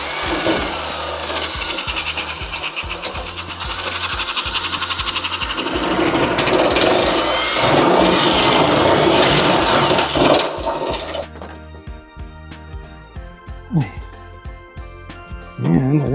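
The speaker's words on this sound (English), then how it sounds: "So, yes, I'm drilling my ambulance." Power drill boring into the metal body of an ambulance while fitting fender LED mounts, a sustained loud whirring grind for most of the stretch, then stopping into quieter clatter and handling noises, with talk over parts of it.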